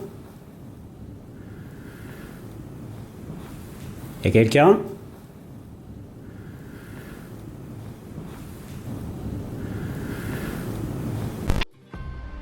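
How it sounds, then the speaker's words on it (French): Wind blows steadily outside during a storm, a continuous low rushing with gusting swells, while a person calls out once partway through and a brief knock or clunk lands near the end. "Le vent souffle dehors, et cela donne une ambiance très particulière au lieu."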